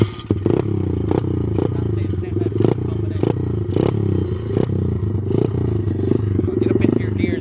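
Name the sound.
Welsh pit bike 125cc motorcycle kick-started and running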